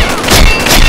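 Gunfire from the online shooter Combat Arms during a clan match, a loud dense burst of shots and blasts filling the short moment without talk.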